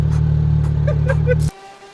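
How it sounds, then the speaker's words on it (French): A car engine idles loudly and steadily up close with a low rumble after a cold start, then cuts off abruptly at about one and a half seconds, leaving faint background sound. "C'est la voiture."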